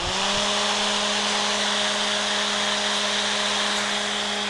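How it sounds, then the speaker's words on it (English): A small electric fan with a roughly 20-watt motor runs at high speed, giving a steady, loud whirring hum with a strong tonal drone and broadband air noise, constant throughout with no talking. "This is a very noisy fan though."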